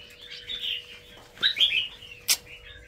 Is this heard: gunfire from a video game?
no